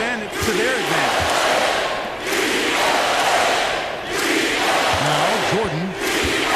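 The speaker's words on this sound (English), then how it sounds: "they kept this crowd in the game, gave them plenty to cheer about" Arena crowd noise from an NBA 2K17 basketball game, a steady loud roar swelling at intervals as fans cheer for the home team, with a play-by-play commentator talking over it.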